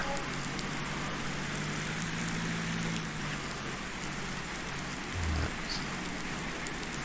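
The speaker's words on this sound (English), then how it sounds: "I suppose I did know it was raining" Constant rain in the video game Farming Simulator 19 patters evenly without letup, a dense steady hiss with a faint low hum underneath.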